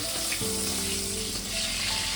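Steady, close frying sizzle of pomfret fish in hot oil, a continuous crackling hiss with no talking.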